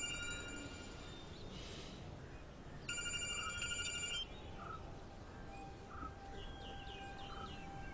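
A telephone rings unanswered in two bursts of a bright repeating bell tone against steady room noise, with faint bird chirps outside.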